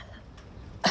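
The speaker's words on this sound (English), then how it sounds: "For this one, we'll start off by doing a fake cough." A single forced fake cough for Kapala Bhati skull-shining breath, short and sharp, bursting out at the very end after near silence.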